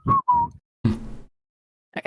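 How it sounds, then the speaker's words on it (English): Eerie whistled notes in a tabletop role-play session, two short sustained tones in quick succession followed by a breathy burst and a faint fragment, close and clear with no talk. "That whistle from my dreams."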